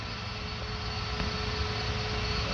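Airliner, apparently an Airbus or Boeing, standing on the runway at Paris Orly Airport before takeoff, giving a steady, continuous engine roar with a faint tonal whine at a moderate distance, no voices.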